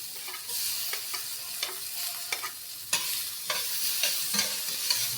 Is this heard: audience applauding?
no